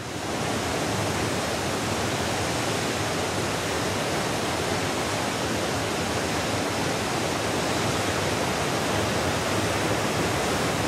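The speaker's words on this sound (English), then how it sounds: "Piper discovered a waterfall even more spectacular than Gordale Scar" A spectacular waterfall at Pistyll Rhaeadr in Wales pours with a steady, dense roar of rushing water that stays even and loud from start to finish, with no voices over it.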